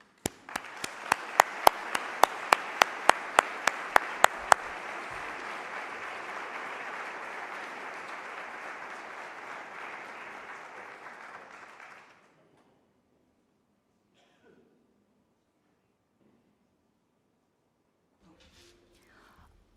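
An audience at a global summit applauds fund winners, with sharp loud claps at the start giving way to sustained clapping for about twelve seconds before it stops and near silence follows.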